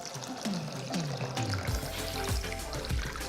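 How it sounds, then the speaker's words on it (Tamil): Water pours into a bowl of washed rice and lentils set to soak, a close, steady gushing stream with rising gurgles as the vessel fills, heard alone without talk. "இப்போது நான் தண்ணி ஊற்றி ஊற வச்சிடுறேன்."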